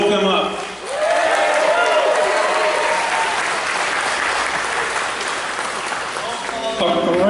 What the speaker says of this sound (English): big round of applause for our 4 tiki gods